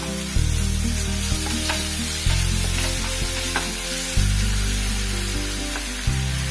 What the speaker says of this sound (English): I'll now add 1 spoon of curd.